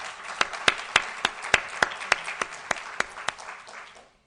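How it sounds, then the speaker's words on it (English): Audience applause for a panel at an institute discussion, a steady wash of clapping with sharp individual claps standing out, fading away near the end. "could we have a round of applause for this wonderful panel?"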